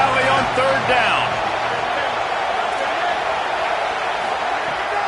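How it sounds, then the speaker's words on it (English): Dense, steady roar of a large stadium crowd in Happy Valley during a third-down play in a college football video game, sustained and loud throughout with faint commentary-like voices underneath. "Here comes the noise from this big crowd in Happy Valley on 3rd down."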